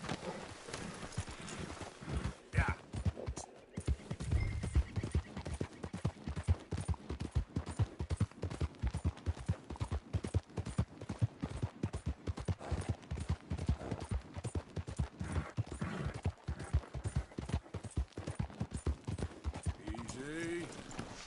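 Horse hooves clip-clop in fast, regular beats throughout a ride in the video game Red Dead Redemption 2, with game ambience and occasional voices mixed in.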